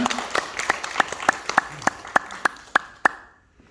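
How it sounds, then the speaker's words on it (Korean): Audience at a church Sabbath school program clapping in a steady unison rhythm, about a dozen evenly spaced sharp claps over rising applause, ending abruptly in quiet. "다시 한번 큰 박수 부탁드리겠습니다."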